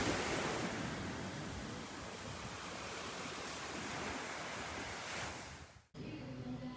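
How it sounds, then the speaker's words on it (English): Ocean surf rolls continuously onto the beach at Sayulita, a Mexican surfing town, a loud hissing wash with wind buffeting the microphone, cutting off abruptly near the end. "So that was the beach"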